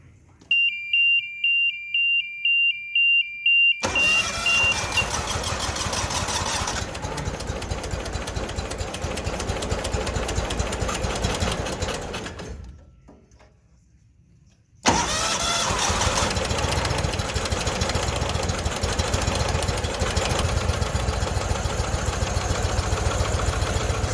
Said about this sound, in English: let's fire it up and see what she does